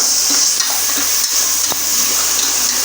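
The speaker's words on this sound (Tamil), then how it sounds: "பேஸ்ட்டு கொஞ்சம் போட்டுங்க அதே கொஞ்சம் வந்து பச்சை வாசம் போகட்டும் நல்லா வதக்கி விட்டுங்க" Onions and paste sauté in a pan for ghee rice, producing a loud, continuous sizzle broken by a few stirring knocks and scrapes.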